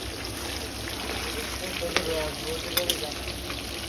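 About fifty pieces of rohu fish fry together in a kadai, giving a steady broadband sizzle with a few sharp pops and crackles near the end, close and moderately loud.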